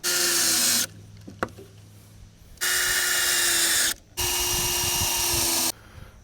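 A power drill drives screws into the wooden frame of a portable goat shelter in three loud, sustained whirring bursts, separated by quieter gaps with light handling clatter.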